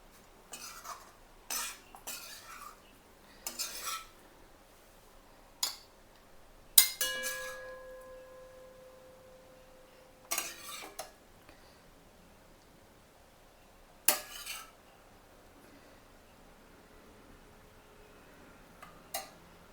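Dum aloo, a spiced potato curry, being spooned from the pan into a serving dish, with a scattered series of sharp metal utensil clinks and scrapes against cookware, one ringing tone lingering briefly, over a quiet kitchen background.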